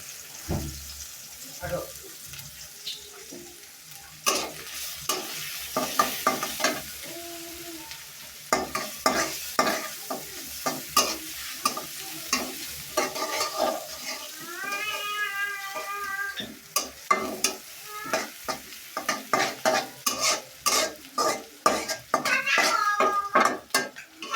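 Onion paste frying in a pan in a village kitchen while being stirred, with steady sizzling broken by scraping strokes and a few pan knocks, close and fairly loud; someone talks over it and a cat meows at times.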